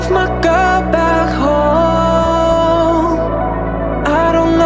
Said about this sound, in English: we just have a couple little like delay and reverb sends, and it sounds a little bit something like this